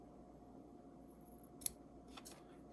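Sharpened Singer shears snip through wet single-ply tissue in a couple of crisp, brief cuts against a quiet, humming room.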